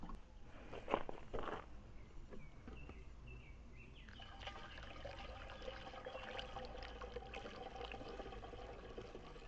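Liquid, drained from a rusty fuel tank, trickles and splashes steadily into a container, a continuous wet pour with a few louder gurgles near the start, close by.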